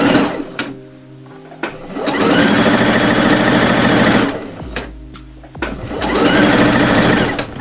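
A sewing machine stitches a folded fabric hem in two loud bursts of rapid, rattling whirring, separated by a pause with clicks and handling noises.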